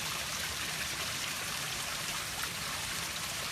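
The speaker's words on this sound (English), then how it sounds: "I built this waterfall so that it's a nice soothing Zen aesthetic" A small backyard garden waterfall trickles into a fish pond, a steady hiss of falling and splashing water, constant and close with no voices.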